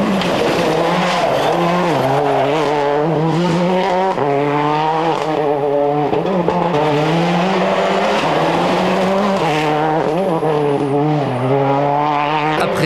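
A rally car driven by François Duval accelerating hard during pre-rally testing for the 2002 Rally of Catalonia, its engine revving up and down through repeated gear changes, loud and continuous with tire noise.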